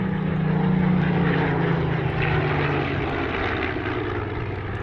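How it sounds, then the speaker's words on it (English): A Spitfire Mark 9 warbird, MH603, flies past at an airshow in Scone, Australia, its piston propeller engine a loud continuous drone that slowly falls in pitch as it passes, with no talking. "the Spitfire in turn paired up with another aircraft, Spitfire Mark 9 MH603 of Pays Air Service."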